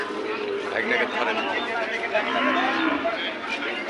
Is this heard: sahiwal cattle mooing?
yes